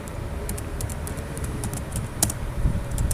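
Keys clatter on a computer keyboard as course data is entered, a run of quick, irregular clicks with one sharper tap, over a steady background hum and no voices.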